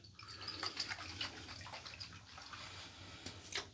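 Water splashed onto the face after a shave with a Gillette New Deluxe razor and Shinigami soap, a close, irregular run of wet splashes and drips, like water cupped from a running tap.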